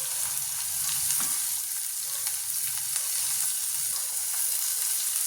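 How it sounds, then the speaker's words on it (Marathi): Chopped ridge gourd sautéing in hot oil in a pan, a steady close sizzle with faint stirring scrapes and small crackles throughout, no voices. "हे पहा अशा प्रकारे ते छान असे तेलात परतून घ्यायचे आहेत आपल्याला मस्तपैकी"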